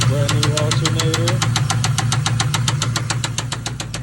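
A 2000 Lincoln Town Car engine runs steadily after an engine swap, close and loud, with a rapid regular ticking or knocking pulse throughout over a low hum, and a voice briefly talking near the start.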